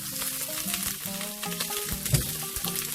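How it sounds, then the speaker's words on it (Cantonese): Pork ribs sizzle in a hot pan as a slice of ginger goes in, giving a dense, close crackle with light spatter throughout. "我哋落一片薑。"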